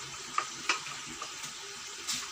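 Aloo keema fries in a pan with a soft, steady sizzle, broken by a few faint clicks of stirring, close up and fairly quiet.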